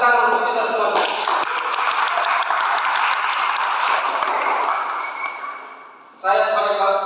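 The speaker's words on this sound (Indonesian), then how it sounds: "Kita tepuk tangan untuk kita semua." Applause from an audience at an environment day tree-planting event, a broad wash of clapping that holds steady, then fades out, with a voice speaking at the start and again at the end.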